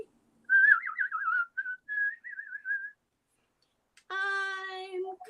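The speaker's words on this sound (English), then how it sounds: "I can whistle any tune that you can play" A person whistles a tune: a wavering, trilling melody in short phrases over about three seconds, then after a pause a steadier, fuller tone that runs to the end, close and clear with no talking.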